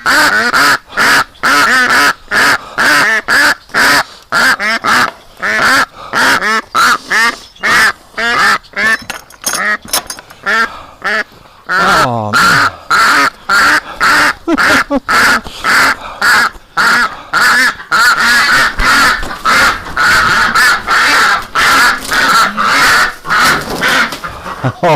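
Ducks quack and honk loudly and almost nonstop in dense, overlapping bursts close by, with a man's brief remark underneath.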